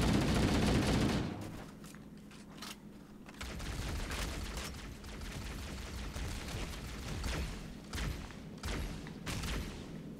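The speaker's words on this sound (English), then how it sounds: "Nope, this is regular rocket launcher." Rocket launcher firing in Halo: Combat Evolved: a loud blast at the start, then continuous explosive thumps and gunfire-like bursts of in-game combat.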